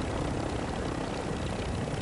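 Helicopter in a video game shooter, a continuous loud rotor and engine roar filling the whole moment without pause.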